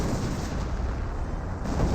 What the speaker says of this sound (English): I think that was the actual barrage in the back.